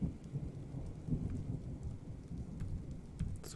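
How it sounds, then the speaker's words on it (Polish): Rain falls in the video game Dwarf Fortress as a steady, moderately quiet wash of drops and low rumble, with no voices over it. "Słuchajcie, jak pada deszcz."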